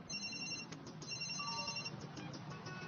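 A cartoon cell phone rings with a repeating electronic ringtone, steady and clear over a busy background.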